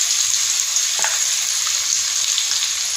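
Curry leaves sizzle steadily in hot oil while tempering, alongside chopped onion, garlic and coconut, a continuous bright close frying hiss with a small splutter near the one-second mark and no talking.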